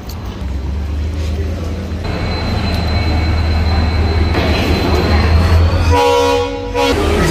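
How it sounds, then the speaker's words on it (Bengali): Trains idle and move along platform 2 at Howrah railway station, a busy rumbling hum filling the platform, with a loud train horn toot sounding near the end. "এটাই হচ্ছে হাওড়া রেলওয়ে স্টেশনের 2 নম্বর প্ল্যাটফর্ম"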